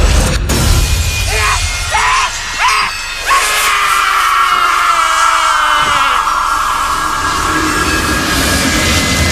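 A magical amulet shatters during a video game boss battle, a sharp burst of breaking crashes followed by a loud, sustained ringing wash that lingers to the end.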